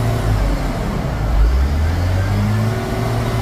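CAT 950H wheel loader with low power and slow acceleration, its diesel engine held at a loud, steady high rev with a deep continuous drone and a slight shift in pitch partway through.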